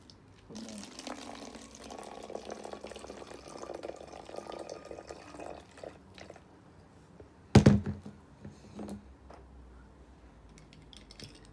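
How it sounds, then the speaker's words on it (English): Vinegar pours into a bottle in a burbling, gurgling stream for several seconds, followed by a sharp thunk and a few quieter knocks, all fairly faint with no talk. "pour the vinegar into the bottle."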